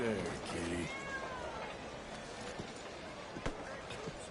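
A cat in the Red Dead Redemption 2 video game gives a clear, drawn-out meow near the start, followed by quieter ambient game sounds and faint thuds.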